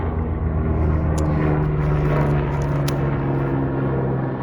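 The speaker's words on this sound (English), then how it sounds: "Let me just wait for the helicopter to fly overhead." A steady low rotor-like rumble with engine drone, continuous and fairly loud throughout, like a helicopter passing overhead.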